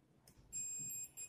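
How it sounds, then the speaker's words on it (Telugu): Continuity beep from a multimeter probing the plus and minus points of a mobile phone's battery connector, a steady electronic tone heard close up, lasting about half a second and then sounding again briefly, with no talk. "ఇప్పుడు మనం ఈ బ్యాటరీ కనెక్టర్లో ప్లస్ మైనస్ చెక్ చేసుకుందామండి. పాయింట్స్ అయితే మనకు బీప్ అయితే వస్తుంది."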